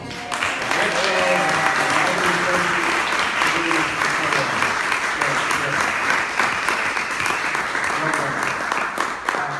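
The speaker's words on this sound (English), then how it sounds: "Please, everybody, a round of applause." Sustained applause from an awards audience honoring California Highway Patrol staff, dense and steady for nearly ten seconds with faint voices mixed in.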